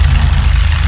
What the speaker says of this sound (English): go ahead and turn this engine off.